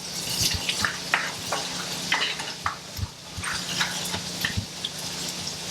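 Roux stirred in a pot while making gumbo, a steady run of scraping spoon strokes and soft clinks over a faint sizzle, close and moderately loud, with no voices.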